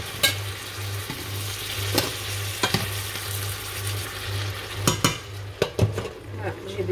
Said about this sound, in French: Sans oublier de remuer tout ça, là.